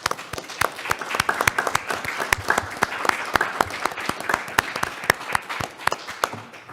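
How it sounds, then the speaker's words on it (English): Audience at a town select board meeting applauding Mr. Hartman, a sustained round of many hands clapping in a room, dense and even throughout with no speech over it. "I'd ask that the audience here today join us in a round of applause for his many years of service"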